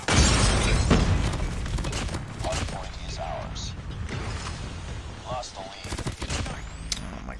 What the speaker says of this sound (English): Something about burst SMGs are just so fun to use.